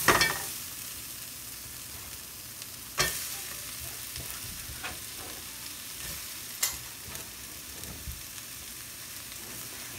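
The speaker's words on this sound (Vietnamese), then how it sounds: "Giờ xào cho nó chín" Onion being stir-fried in a pan for japchae, a steady soft sizzle with a few sharp utensil scrapes and clacks against the pan, fairly quiet and close, no voices.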